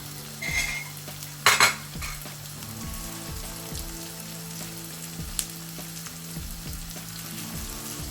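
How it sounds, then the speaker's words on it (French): Sliced onions sizzling in oil in a frying pan as a spoon stirs them, with soft scrapes and a couple of sharper clinks against the pan and a steady frying hiss throughout. "on va faire revenir les oignons dans la poêle"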